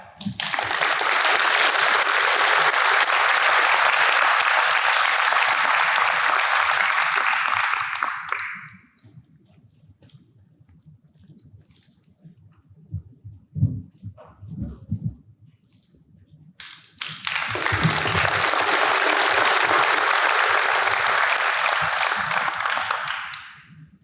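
An awards day ceremony audience applauds in two long bursts of dense, loud clapping, separated by a quieter stretch with faint murmurs and scattered sounds.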